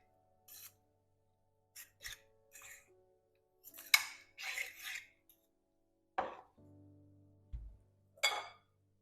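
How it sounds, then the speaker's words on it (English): Cod, potato and onions are stirred gently together in a dish, giving soft scraping and rubbing strokes in short separate bursts with light clinks, close and quiet, with no voice over them. "Stir it together very gently, just so you get all the potato mixed with the fish and the onions."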